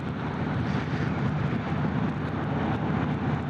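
An Indian Springfield Dark Horse 116 motorcycle engine burbles at a steady idle, a continuous low, rumbling drone heard close and without interruption, no voices over it.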